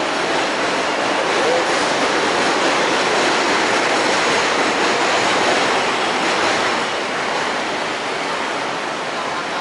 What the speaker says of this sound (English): This is the 90th Street train station on the 7 line upstairs